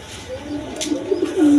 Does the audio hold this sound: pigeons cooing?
yes